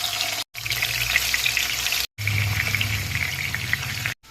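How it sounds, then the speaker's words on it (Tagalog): Turmeric-coated chicken pieces frying in hot oil in a pan, a loud, close, continuous hissing sizzle that cuts out briefly twice, with no talking. "Tapos nilagay ko na nga to sa mainit na mantika."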